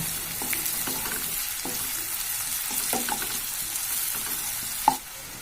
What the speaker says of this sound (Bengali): এবার দিয়ে দিচ্ছি পেঁয়াজ কুচি, তারপর দিয়ে দেব রসুনের কোয়া। কিছুক্ষণ ভেজে নেব।